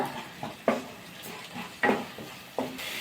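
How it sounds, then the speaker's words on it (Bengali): Spice masala of cumin powder, chili powder, Kashmiri chili powder, green chilies, turmeric and salt fries in a pan under a low sizzle, punctuated by a handful of distinct spatula scrapes and clanks against the metal. "লবণ পরিমাণ বুঝে করে কষিয়ে নেব মশলাটা"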